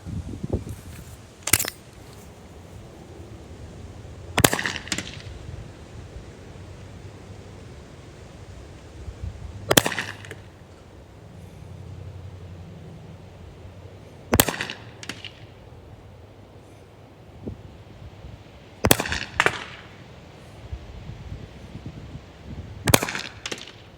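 Six sharp, separate shots from a Beeman BP50 compact airgun fired through a chronograph, each crack a few seconds apart, loud and close against a quiet background.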